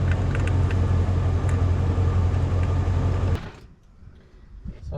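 A truck engine idles nearby with a loud, steady low rumble, then cuts off abruptly, leaving near-quiet with faint background noise.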